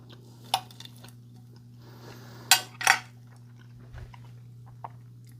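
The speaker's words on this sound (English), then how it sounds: "let's cut one in half" A knife slicing an air-fried chicken tenderloin in half, heard as a few short scraping and tapping contacts of blade on plate, with two louder cuts near the middle and a steady low hum underneath.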